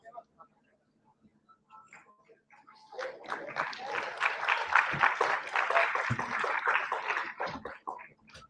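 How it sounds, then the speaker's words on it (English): Audience applause at a sustainable fashion award ceremony swells after a few quiet seconds into sustained clapping for most of the clip, with some voices mixed in. "A huge round of applause to Avani."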